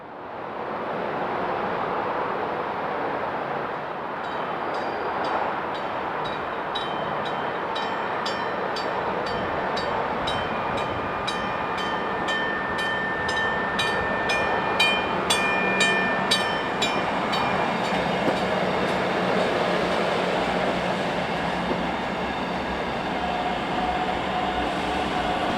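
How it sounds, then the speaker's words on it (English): A South Shore Line commuter train, westbound reverse-commuter train 312, rolls past on a siding, its steady rumble and rhythmic wheel clicks building and holding close for a long stretch, with no voices. "meeting the reverse commuter westbound train 312 here on the siding"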